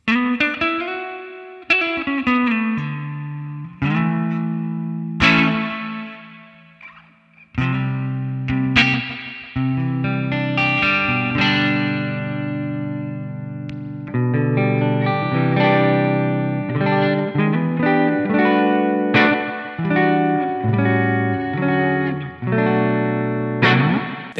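A humbucker electric guitar plays through a distorted AmpliTube 5 amp simulation, with sustained overdriven single notes and chords at the front, and a thick, saturated tone ringing through brief gaps.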